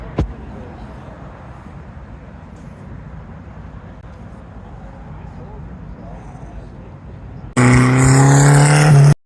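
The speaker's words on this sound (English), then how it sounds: "Blasting onto the screen here, another car from local autocross" A car engine rumbles in the background for several seconds at an autocross, then a loud, close sports car engine note rises sharply and revs up near the end.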